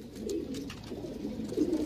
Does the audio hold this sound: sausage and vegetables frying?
no